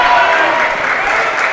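Steady clapping from a high school basketball bench during a Loretto Mustangs vs Cascade Champions game, a dense, even patter of many hands sustained throughout with gym crowd murmur mixed in.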